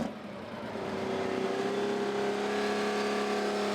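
A heavy tractor-pulling engine drones and revs steadily at an agricultural show, its pitch rising slowly and holding loud throughout, with no voices.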